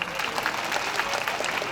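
Steady applause from a large crowd, many hands clapping in a continuous, fairly loud patter.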